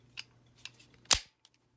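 The slide lock of a Taurus GX4 pistol snaps shut in one sharp metallic clack, preceded by a couple of faint small clicks of handling, close up and otherwise quiet.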